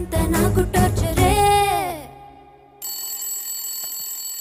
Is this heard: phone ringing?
yes